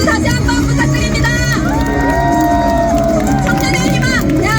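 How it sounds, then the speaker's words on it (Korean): A crowd at an outdoor campaign policy rally at Cheonggyecheon's Sora Tower in Seoul cheers and whoops in a dense, continuous wash of voices, with music and an amplified voice running through it. "우리 김문수 후보에게 함성과 박수 다시 한번 부탁드립니다"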